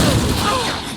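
Casting Compulso in Hogwarts Legacy combat produces a short, loud blast with a rumbling low end that fades slightly over one second.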